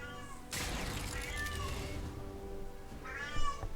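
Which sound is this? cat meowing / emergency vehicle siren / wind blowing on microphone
cat meowing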